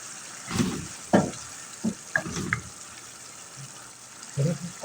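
Minced meat (qeema) being fried in a pan, quiet crackling and sizzling bursts with stirring scrapes at an irregular pace, fairly close but soft, without speech.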